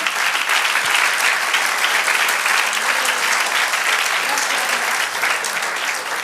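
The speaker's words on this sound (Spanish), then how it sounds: "Dale el aplauso al Señor." A church congregation applauding during a Spanish-language sermon, a continuous, dense wash of clapping from many hands that holds steady and loud for several seconds with no pauses.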